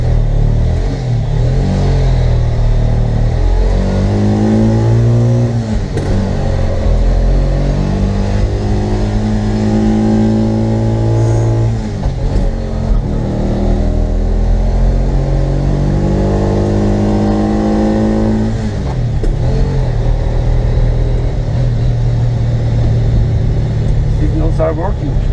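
A Bajaj Qute small car's engine drones and revs continuously while driving, rising and falling in pitch through gear changes, loud and close inside the cabin with people talking over it.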